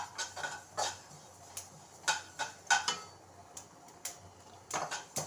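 Sesame seeds dry-roasting in a pan, crackling and popping in irregular small snaps, fairly close and moderately quiet, with no talking.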